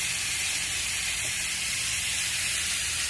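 Ribeye steaks sear in a hot pan with butter, sending up a constant, even sizzling hiss that stays close and steady throughout, with no voices.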